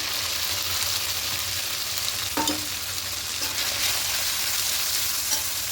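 A ground spice paste fries in oil for a vegetarian potato and pumpkin chhokka, giving a continuous, even sizzle with light stirring scrapes and one brief sharper clatter midway.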